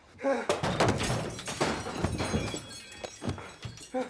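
Blows strike a man's head in a Star Wars Andor scene: a quick run of dull, cracking thuds and impacts, fairly quiet overall and irregularly spaced.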